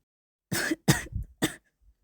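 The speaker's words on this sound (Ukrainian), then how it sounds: "людина на його руках несподівано зайшлася кашлем" A person coughs in three short, harsh bursts, close and fairly loud, followed by a faint breath.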